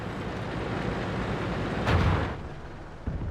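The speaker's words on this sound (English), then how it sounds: "There's the artillery shell." An artillery shell explodes in a tank combat game, a single loud burst rising out of steady rumbling background noise and fading over about half a second, with a smaller thud just after.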